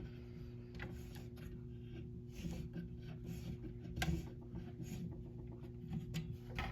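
A fire alarm pull station is shut and locked with an Allen key: faint, close metallic clicks and small scraping taps in a quiet room, with one sharper click partway through.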